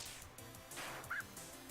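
Lesser Dog, a small dog enemy in the video game Undertale, gives short yipping barks and a brief whimper. The sounds are quiet and clipped over faint game background.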